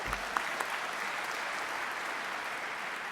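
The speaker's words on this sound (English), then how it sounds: "So when you feel like clapping, give them in abundance." Audience applause from a crowd at a speech, a steady, dense wash of clapping that holds evenly throughout at moderate distance, with no talking over it.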